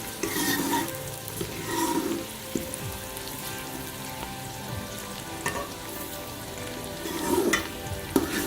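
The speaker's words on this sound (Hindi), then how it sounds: "प्याज हमने फ्राई होने के लिए रख दिया।" Onions frying in a pan for an aloo baingan sabzi, a steady close sizzle broken by periodic bursts of stirring and scraping, with light clinks of a utensil against the pan.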